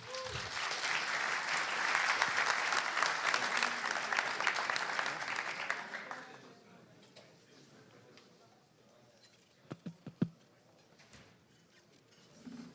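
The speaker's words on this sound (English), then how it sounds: "give him a big round of applause" Audience applause at a Python programming conference talk, a dense burst of clapping from a crowd that fills the first six seconds, then fades to a quiet room with a few scattered claps and knocks.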